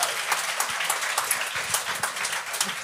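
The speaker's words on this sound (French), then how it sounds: "on peut l'applaudir pour ça" An audience at a Gong Show comedy taping claps warmly for a performer's first-ever show, a dense, lively round of applause with sharp individual claps standing out and no talk over it.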